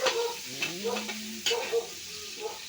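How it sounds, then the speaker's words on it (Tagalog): Ingredients being sautéed in a pan, with stirring scrapes and a bright sizzle, while voices talk over the cooking in bursts. "Tapos igigisa mo yan, chef"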